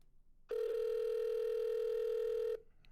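A steady electronic phone tone sounds continuously for about two seconds, clear and close, with no talking over it.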